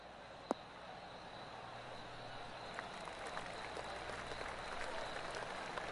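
Soft, polite golf applause from a small crowd in a golf video game patters on at a distance, light and sparse, with one sharp click near the start.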